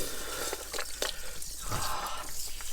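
Water from a van's tap driven by a new water pump, a quiet close splashing and pattering flow with small drip-like spatters, fairly soft throughout.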